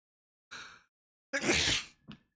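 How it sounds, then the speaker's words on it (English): A sudden human sneeze heard nearby, with a short breathy intake before it and then one loud burst, followed by a small trailing sound. "That sneeze came on all of a sudden."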